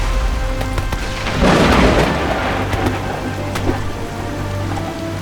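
Thunderstorm with heavy rain during a Revolutionary War battle scene, a steady loud downpour hissing throughout with a swelling rumble of thunder near the start.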